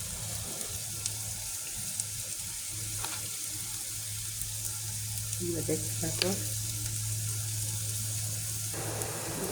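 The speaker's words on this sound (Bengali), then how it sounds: "এখানে দিয়ে দিতেছি পেঁয়াজ রসুন কুচি" Chopped onion and garlic sizzle steadily in hot oil in a pan, a constant crackling fry with a low hum, a few stirring clinks and a brief spoken remark.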